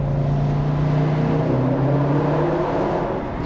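A Subaru WRX STI drives through a tunnel, its engine and exhaust a loud, close, droning hum with steady tones that rise and shift as the car pulls, echoing in the enclosed space, with no voices.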